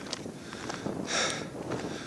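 Gusty wind on a mountain summit in the Lake District buffets the microphone in a steady rush, swelling into a louder hissing gust midway before settling back.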